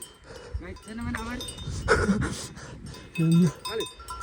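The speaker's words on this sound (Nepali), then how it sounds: "गाई चाहिँ हामीलाई छेकिरहेको छ" Cowbells clank and cows call out nearby on a trekking trail in Dhorpatan, Nepal, mixed with people talking in the background.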